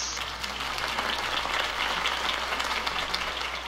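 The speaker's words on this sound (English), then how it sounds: "could have heard that applause" A crowd in Batman: The Telltale Series video game breaks into sustained applause, dense clapping that continues steadily without a break, with no voices over it.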